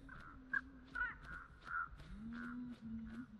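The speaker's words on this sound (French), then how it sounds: "les corbeaux ils sont au-dessus d'elle." Crows caw repeatedly in the video game Dead by Daylight, a string of harsh calls close by, with a steady low hum and game ambience running underneath.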